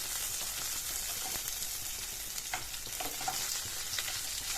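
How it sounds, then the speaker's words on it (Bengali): Bhola river fish fry in hot oil until reddish, giving a continuous crackling sizzle with small pops, steady and fairly quiet throughout. "এই রকম লালচে কালার করে ভেজে নিলে মাছটা খেতে ভালো হয়"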